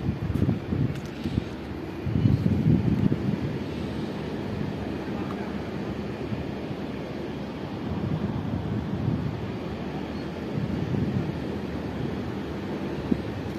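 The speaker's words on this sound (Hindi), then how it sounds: "हवा चल रही है, ठंडी ठंडी हवाएं चल रही हैं" Cool night wind blowing across an open workers' camp area in Qatar, a steady broad rushing and buffeting on the microphone lasting throughout, with no speech.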